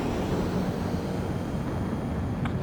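Fighter jet in Ace Combat 7 coming in to land, a steady broadband engine roar and rumble holding at constant loudness throughout, with no voices.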